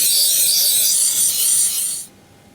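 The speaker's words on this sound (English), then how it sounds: "This is the green carbide waterstone." An ESEE 6 knife blade rasps steadily across a green carbide waterstone in one loud, close, continuous scraping stroke lasting about two seconds before it stops abruptly.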